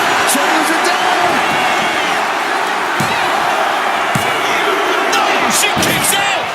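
Arena crowd in the WWE 2K25 wrestling game roaring with a dense, constant wall of cheering, with occasional sharper thuds and shouts poking through the steady loud din.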